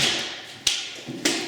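A Nerf Vortex Vigilon blaster fires at close range, giving two sharp taps roughly half a second apart, each one followed by a hissing rush of air.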